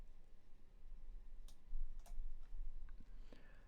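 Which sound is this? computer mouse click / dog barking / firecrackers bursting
computer mouse click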